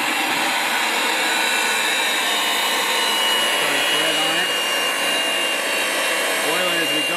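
Pipe threader machine cutting threads on a 1 inch steel pipe, a loud continuous motor whine and grinding hum with shifting tones, steady from start to end and close by, with a voice speaking briefly over it.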